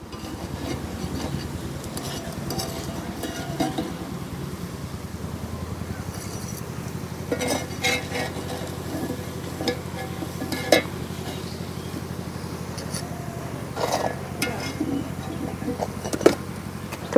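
Pumpkin flower fritters frying in hot oil as they are lifted out, with a steady low sizzle and bubbling throughout and occasional light clinks of a utensil against the pan.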